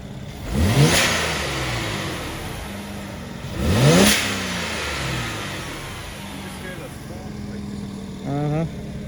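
A BMW E92 335i engine revs hard twice in strong rising bursts, then settles into a steady idle, followed by a shorter rev near the end.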